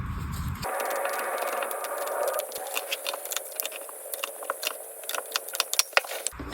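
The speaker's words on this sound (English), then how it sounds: "So I'm going to shuffle the cards and let's see what comes through." A Rider-Waite tarot deck is shuffled by hand, giving a brief riffling whirr and then a run of crisp, irregular card taps and flicks, close and alone.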